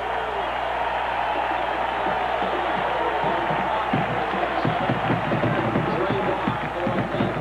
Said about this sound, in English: And this crowd comes alive